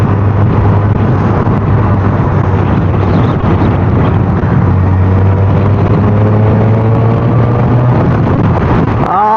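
A Suzuki Hayabusa motorcycle cruises on a highway, its engine droning loudly and steadily with a slowly shifting pitch, buffeted by heavy wind rush the whole way.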